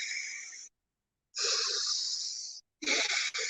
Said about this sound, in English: And on the slow breaths, which will sound like this,